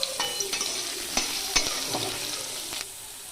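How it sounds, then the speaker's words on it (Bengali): Dried red chillies, five-spice seeds and bay leaf hit hot oil in a pan and sizzle steadily while being stirred, with occasional sharp clinks of a spoon against the pan over the crackle. "এই গরম হয়ে যাওয়া তেলের ওপর দিয়ে দিচ্ছি শুকনো লঙ্কা, পাঁচফোড়ন, তেজপাতা।"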